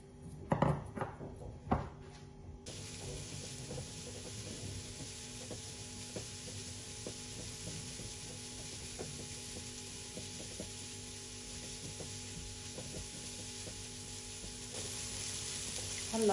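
Onion and potatoes fry together in a pan, a steady close sizzle running throughout after a few clattering knocks at the start, with no talking.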